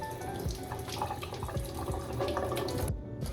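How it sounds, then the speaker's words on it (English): A ripe tomato is rinsed under a running kitchen tap, a steady close splash of water into a sink that lasts throughout. "you want to grab a ripe tomato and you want to wash it first"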